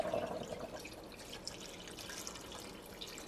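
Water pours and splashes into a pot of just-boiled meat, a faint steady trickling and dribbling close by that fades slightly after the first moment.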